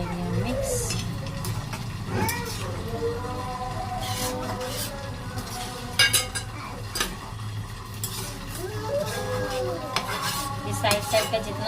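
Aloo matar keema being stirred and scraped in a pan with a utensil, steady clattering and scraping strokes with a soft sizzle, close and fairly loud, under someone talking.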